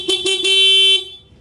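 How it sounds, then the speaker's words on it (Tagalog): Stock horn on a Sniper 155 motorcycle sounds three quick close toots followed by one sustained blast of about half a second, loud and steady, with no talking. "Working pa rin yung stock horn."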